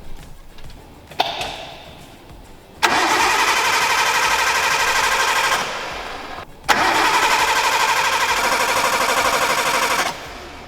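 Engine of a Japanese-import Nissan R32 Skyline being cranked with the airflow meter unplugged: a click, then two long, loud, steady bursts of starter churning, each cut off abruptly, without firing.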